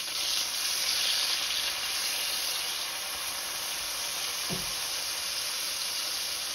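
Mushrooms sizzle steadily in heated olive oil in a skillet, an even bright hiss throughout with one brief low thud partway through.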